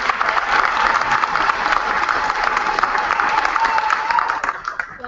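A conference audience claps for a panel at the close of a session, loud continuous applause with some scattered cheers that tapers slightly at the end.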